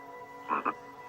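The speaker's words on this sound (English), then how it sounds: "he croaked loud praises" A frog in an African wildlife setting gives two short, close croaks in quick succession over a quiet, steady background hum.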